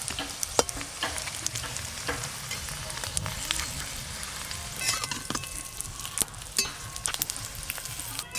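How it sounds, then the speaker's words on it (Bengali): Potato-stuffed papads fry in mustard oil, a loud continuous sizzle and crackle broken by frequent sharp clinks and scrapes of a utensil against the pan. "এবার এইগুলো ভেজে নেব একটা একটা করে।"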